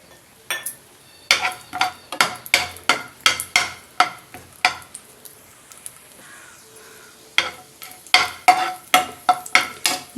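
Cashews stirred and frying in a spoonful of hot ghee in a pan, a sizzle broken by rapid rhythmic scraping strokes of a spoon, with a pause in the middle before the stirring resumes.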